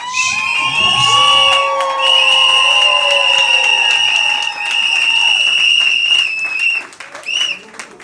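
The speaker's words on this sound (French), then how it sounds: "est-ce qu'on peut lancer des cris de joie et des acclamations?" Women in a festive crowd at an evening celebration cheer, whoop and ululate with high, sustained trilling cries over clapping, loud and close, fading near the end.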